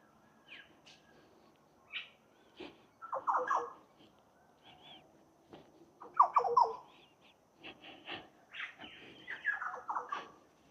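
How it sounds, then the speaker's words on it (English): Woodland birds call and sing along a pathway, scattered chirps, squawks and short warbling phrases coming in irregular bursts at moderate distance against a quiet background. "And hear the birds."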